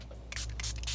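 Quick bursts of water mist from a spray bottle onto a watercolor book, a few pumps in rapid succession, close and fairly loud with nothing else around them.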